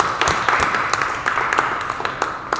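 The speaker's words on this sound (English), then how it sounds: "let's just give them a round of applause" Applause from a gathered audience at a robotics build event, a steady wash of many hands clapping with sharp individual claps popping out, fairly close and continuous for a few seconds with no talk.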